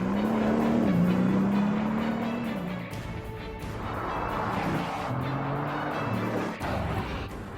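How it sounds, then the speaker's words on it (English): A Bugatti Veyron's 16-cylinder W16 engine accelerates, a deep, loud, rising drone that holds strong, dips briefly, then climbs again with some road noise. "you can actually hear the unique sound of the Veyron before you see it"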